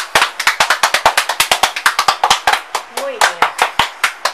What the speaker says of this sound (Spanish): un aplauso que se escuche en general